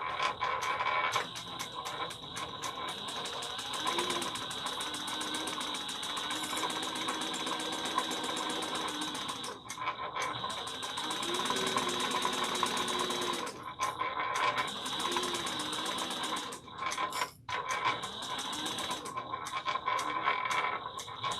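A sewing machine runs steadily, basting fabric for a travel bag, its dense mechanical whir continuous across the span with brief pauses and speed changes, close and fairly loud throughout.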